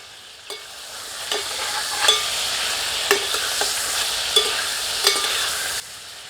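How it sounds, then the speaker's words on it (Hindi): Chicken pieces sizzle loudly in desi ghee in a pan, with a steady frying hiss broken by several distinct scrapes and stirs of a spoon against the pan. "जैसे जैसे मुर्ग को हम देसी घी में भूनते हैं"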